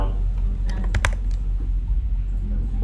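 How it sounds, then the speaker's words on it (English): Fast, irregular clicking of a computer keyboard while coding a React component, close and fairly loud, with a brief burst of harder keystrokes partway through. "I'm just typing."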